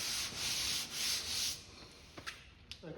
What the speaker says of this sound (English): I'm going to go over this again with a hand sanding, so any tiny little orbital marks in there will come out